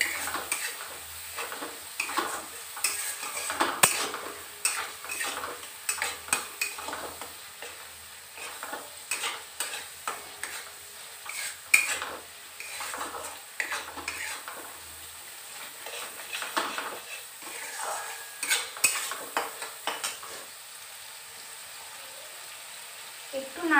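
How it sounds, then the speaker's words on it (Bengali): Spinach paste of boiled, ground spinach being stirred in a cooking pan: repeated scraping and clinking of a metal utensil against the pan in irregular bursts, with a faint sizzle between strokes. "দিয়ে একটু নাড়াচাড়া করে নেব।"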